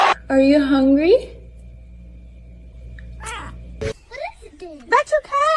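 A domestic cat meows loudly up close in a long wavering yowl, then gives several shorter rising mews after a pause, with people talking nearby between the calls.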